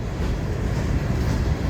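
Continuous low rumble of an FEC night train pulling out around 2 a.m., steady and close throughout the short stretch, with no talking.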